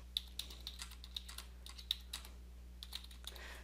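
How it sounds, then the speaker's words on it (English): Someone types on a computer keyboard, quiet, irregular key clicks in short bursts over a low steady hum. "So I can begin typing text."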